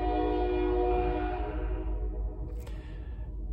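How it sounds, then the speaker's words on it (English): A passing train sounds a loud, steady horn-like drone with strong rumble that slowly fades as it moves off, with a brief clatter near the end. "there's a train going by the way"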